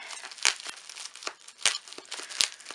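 A taped package is torn open by hand in a series of quick crinkling rips and crackles, close and moderately loud, with a few sharper tearing snaps.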